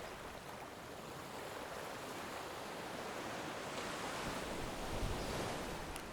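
Ocean waves surge and swirl against the rocks of Worm's Head, a wild uninhabited island in Wales, on a midsummer night: a soft, continuous wash of surf heard at a distance, swelling slightly toward the end.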